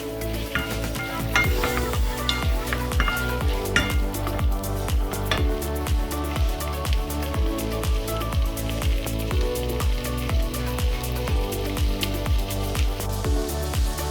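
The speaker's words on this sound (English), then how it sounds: "Shall put in the meat. And then wait until it's brown." Meat browning in butter in a pan, a loud continuous close sizzle with rhythmic crackling pops and spatters throughout.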